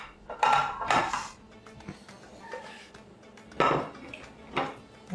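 Angel hair pasta tipped into a metal colander set over a couscous pot, giving a few sharp clanks and clatters of metal and utensils with quieter rustling in between and no talking.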